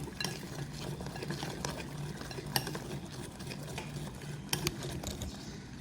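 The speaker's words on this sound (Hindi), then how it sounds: "अब इससे मैं फेंटूँगी इसको हैंड विक्स से।" A hand whisk beats gram flour batter in a bowl, producing a steady scraping, stirring rhythm with scattered sharper clinks of metal against the bowl, fairly quiet and close.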